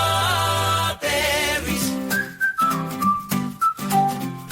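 A person whistles a bright melodic tune in a Valentine's Day whistling contest, clear close notes held and broken into short phrases with brief pauses, alone without talk.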